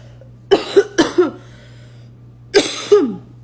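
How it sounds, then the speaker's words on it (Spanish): Two pairs of coughs, each a quick double burst, close and fairly loud, separated by a short quiet pause over a faint steady hum. "la tos otra vez está apoderándose por acá"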